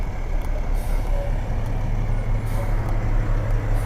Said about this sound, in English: This is a sanitation truck with the salt inside